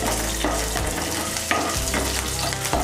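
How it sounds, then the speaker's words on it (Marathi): Green chillies frying in hot oil in a wok, a loud steady sizzle with scraping stir strokes breaking through at intervals, close up and with no talking. "मिरच्या मस्त फ्राय झाल्या बघा।"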